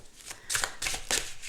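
Oracle cards being shuffled by hand, three quick riffling bursts of papery flutter in close succession, near and clear with no talking.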